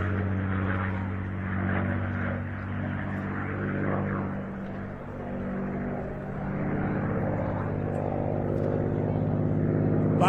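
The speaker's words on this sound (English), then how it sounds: "there's the sound, the music of the Merlin engine" A plane with a Merlin engine flies at the Wasatch Air and Space Show in Utah, its deep, steady drone rising and falling in loudness as it passes at a distance.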